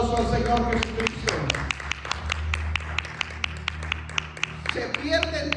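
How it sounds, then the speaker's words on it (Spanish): A church congregation claps in a loose, rhythmic pattern of distinct, sharp hand claps under spoken voices, the beats spaced fairly evenly over a few seconds. "Dale un fuerte aplauso al Señor Jesucristo."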